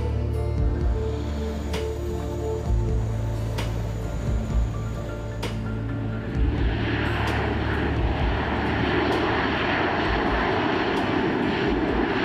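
An airplane engine drones loudly and continuously, a steady low roar with a sustained tonal hum that broadens into a rushing whine partway through, near and unbroken throughout.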